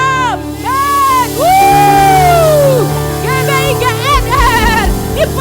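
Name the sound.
church congregation shouting amen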